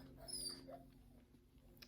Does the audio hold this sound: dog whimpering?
yes